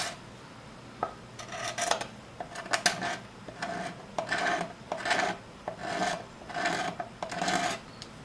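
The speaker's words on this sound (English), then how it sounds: "Literally just going to scrape. And you can see these shavings coming off." A hand scraper works wooden binding down on a carved-top guitar, repeated close, raspy strokes in a steady back-and-forth rhythm, each a short dry scrape with a faint ring, no voices.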